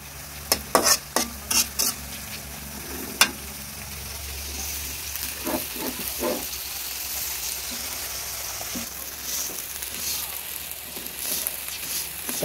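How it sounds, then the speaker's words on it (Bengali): Rice is stirred and fried in a pan, opening with a quick run of sharp scraping strokes, then a steady sizzle with softer stirring scrapes up close. "চাউলটা ভালো করে ভাজা হয়ে গেছে"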